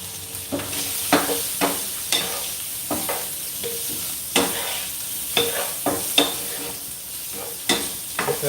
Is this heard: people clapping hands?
no